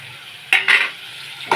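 Onion browned to gold, with curry leaves and tomato pieces added, fries in a pan, giving a steady sizzle broken by a few louder bursts of stirring and spatula scraping.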